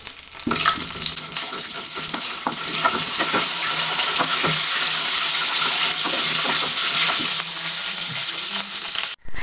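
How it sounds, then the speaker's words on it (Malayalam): Whole spices (fennel seeds, cardamom pods, cloves, a small piece of cinnamon, and cumin) frying in hot oil, giving a loud, steady sizzle with crackling pops throughout, heard alone with no talking. "അത് ചൂടായി വരുമ്പോൾ നമുക്ക് ഹോൾ മസാലകൾ ഇട്ട് കൊടുക്കാം"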